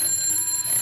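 An alarm clock ringing in a home early in the morning, a steady electronic tone sounding close and continuous with no voices.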